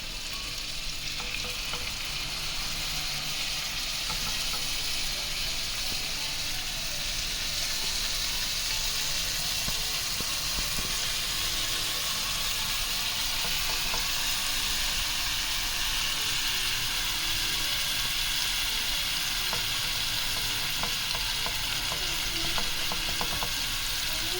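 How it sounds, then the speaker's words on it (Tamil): Tandoori chicken pieces frying in melted butter in a pan, with a steady, loud sizzle and crackle that holds throughout. "ஒரு பேனில் ஒரு சின்ன துண்டு பட்டர் போட்டு மெல்ட் பண்ணியிருக்கேன். இப்போது தந்தூரி சிக்கனை எடுத்து இதில் வச்சிடலாம்."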